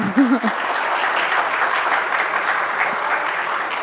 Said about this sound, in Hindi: ये तालियां बजा रही हैं